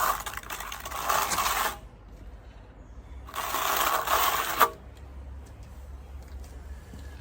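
A power cutter notches a porcelain tile for a feature wall, with two harsh grinding bursts of about one and a half seconds each, separated by a quiet pause, and a faint rattle after the second.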